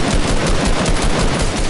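Loud, dense automatic gunfire from a video game, a rapid unbroken burst of shots filling the whole moment at close range.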